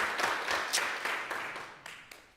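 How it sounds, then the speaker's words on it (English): Audience applause for the performers of a new piece at an arts event, faint and scattered clapping that thins out and fades over a couple of seconds. "One more round of applause for Grace Ann Lee's piece and the performers."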